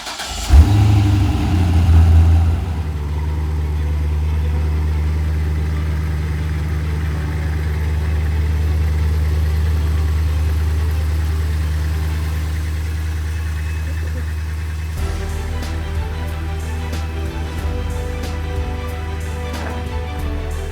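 A Chevrolet Corvette engine runs steadily while cruising on the road toward Corona, California, giving a continuous low drone with a brief rise near the start. The cabin tone shifts partway through, and no one speaks.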